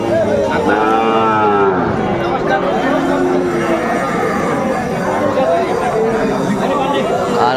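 Cattle moo repeatedly and loudly at a busy livestock market, the Ambari haat in Dinajpur, where young bull calves and heifers are sold, with several overlapping bellows over a steady crowd chatter.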